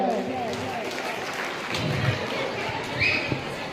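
An audience at a student felicitation ceremony held by a Prajapati community education society in Deesa claps together in sustained, dense applause, with a voice speaking over the crowd.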